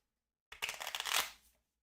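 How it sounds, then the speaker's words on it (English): Dominion Plunder loot cards are riffled together in a single quick shuffle, a close, crisp run of rapid flicking lasting about a second. "What you do with the loot cards is you shuffle them up"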